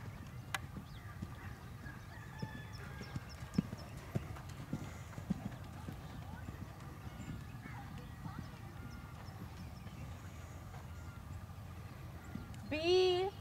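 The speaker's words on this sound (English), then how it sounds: "Working trot." A horse's hooves clip-clopping in a steady two-beat working trot in a Training Level dressage test, faint and distant in an outdoor arena, with a brief honk-like animal call near the end.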